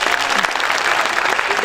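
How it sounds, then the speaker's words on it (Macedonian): A large audience in a ceremonial hall applauds nurses during an International Nurses Week celebration: dense, steady clapping from many hands, loud and sustained throughout. "Еден голем аплауз за медицинските сестри"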